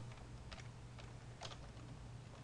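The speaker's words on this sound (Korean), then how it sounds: "F2키 눌러서 소득자의 직계 존속" A few faint, sparse computer keyboard key presses, including the F2 key, during tax accounting software data entry, with soft clicks spread over a steady low hum and no voices.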